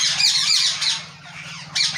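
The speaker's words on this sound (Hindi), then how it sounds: "काफ़ी नायाब नस्ल के यहाँ पे तोते रखे हुए हैं माशाल्लाह" Parrots of a rare breed in a mini zoo aviary giving harsh, repeated squawks in close, loud bursts with short gaps between calls.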